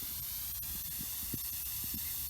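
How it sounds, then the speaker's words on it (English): A lidded biochar burner vents pressure through a gap with smoke escaping, giving a steady, faint, airy hiss that runs continuously with a few soft low thumps underneath. "You can hear the pressure releasing."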